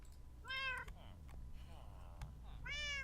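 Cats in the Minecraft video game, with a Dokucraft Light resource pack, let out two clear meows, one at the start and one at the end, with softer purring mews between, over low background hum.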